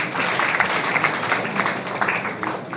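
An audience at a college elocution competition bursts into applause, a thick, even wash of many hands clapping together, sustained and fairly loud for a few seconds.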